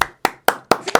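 Five sharp, loud hand claps close by in a television studio, evenly spaced and crisp, each with a quick decay into silence.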